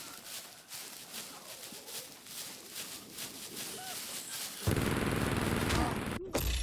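An automated base defense turret in SCUM fires rapid bursts of gunfire, at first distant and scattered, then a louder sustained volley near the end, with a voice talking over part of it.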